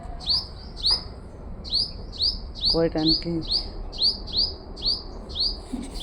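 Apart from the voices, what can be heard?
birds chirping in the morning garden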